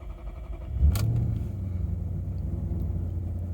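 A Maserati Quattroporte V8 with 180,000 miles starts with a thump and settles into a low, steady idle rumble heard from inside the cabin, with a faint click at the start.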